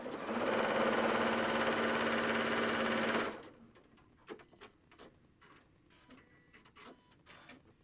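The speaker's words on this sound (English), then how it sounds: "put it in my machine, and once again, sew that 1/4 inch seam" A sewing machine stitches a quarter-inch seam on quilt blocks, a loud, steady whirring drone for about three seconds that then stops, leaving faint handling clicks and taps.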